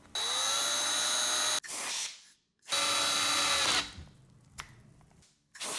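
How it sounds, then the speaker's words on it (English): A power drill with a 1/8 inch bit drills into a metal plug on a 2023 Honda XR650L carburetor, whining loudly in two long bursts, separated by brief pauses and quieter mechanical handling noises, close up. "we'll use a 1/8 inch drill bit on this metal plug"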